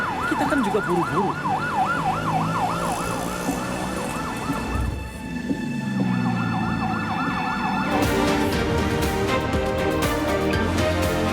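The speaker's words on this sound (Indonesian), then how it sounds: "Ini ambulans, kita kan juga buru-buru." An ambulance siren wails loudly and close by, its tone sweeping steadily up and down before switching to a faster, more urgent cycle, with road traffic rumbling underneath.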